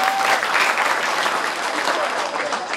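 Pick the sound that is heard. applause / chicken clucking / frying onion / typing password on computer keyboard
applause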